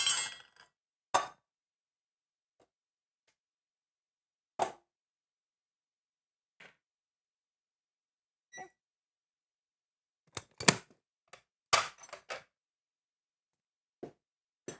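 Dry ingredients are measured into a bowl for chocolate chip cookies. Scattered short clinks and taps of spoons and cups against the bowl come at uneven intervals, with quiet pauses between them and no talk.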